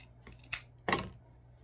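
Scissors snip through ribbon tails for a deco mesh wreath, cutting them at an angle: two crisp, close cuts about a third of a second apart in an otherwise quiet room.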